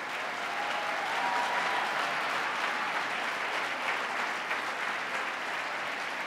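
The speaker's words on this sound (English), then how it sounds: "Give them a big round of applause" A large audience at the 2018 New York State of the State address applauds, a steady, dense wash of clapping that holds evenly for several seconds with no talk over it.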